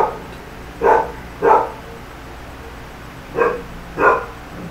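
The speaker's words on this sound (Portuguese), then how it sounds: "Melhor amigo do homem, né? Cachorro, né?" A dog barks four times, in two pairs of short, mid-pitched woofs separated by a pause, fairly close over a quiet background.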